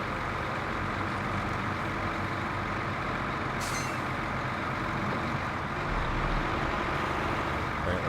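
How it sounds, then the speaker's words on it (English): A heavy truck engine drones steadily in SnowRunner, a loud low rumble with a brief hiss partway through, running continuously without talk. "this thing's actually a pretty beefy truck"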